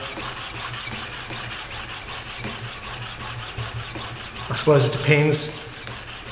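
A drill gauge is sanded by hand with a continuous, rhythmic rubbing rasp, close and steady, while someone speaks briefly over it near the end.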